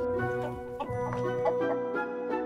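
Ayam Cemani chickens clucking in a steady, overlapping chorus of close, moderately loud clucks and murmurs, with no talk over them.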